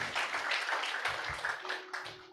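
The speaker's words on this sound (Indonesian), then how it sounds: "Tepuk tangan paling meriah buat Tuhan Yesus" Applause at a church service, a broad wash of clapping from a congregation that holds steady for a couple of seconds at moderate distance, with a faint voice or tone rising late in the burst.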